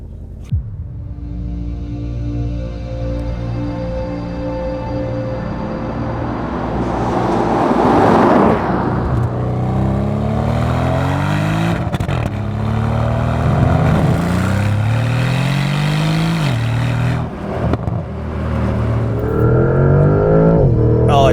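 Porsche Panamera GTS with a V8 engine accelerating hard, its loud, close engine note rising in pitch through several sweeps with smooth gear shifts between them, over steady road noise.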